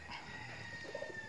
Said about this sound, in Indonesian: Ini ayam dia.